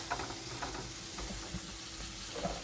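Cashews fry in oil and masala as they are stirred, a soft steady sizzle with light scraping and clicking from the spoon at an irregular rhythm, close and fairly quiet.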